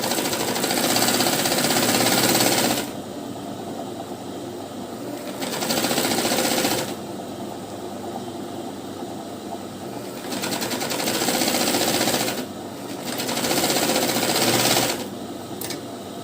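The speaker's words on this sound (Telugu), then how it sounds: "దొడ్డు కుట్టుతోని జాయింట్ చేసుకోవాలి." A sewing machine stitching a blouse lining runs in loud close bursts of rapid needle chatter, several runs of two to three seconds separated by quieter pauses, with no talking.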